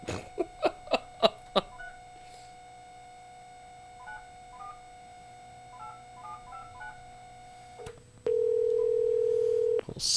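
A telephone being dialed: a quick run of DTMF keypad tones, then sparse softer beeps, and finally a steady ringback or dial tone near the end, with no talking.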